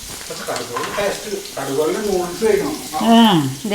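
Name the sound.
garlic sizzling in hot mustard oil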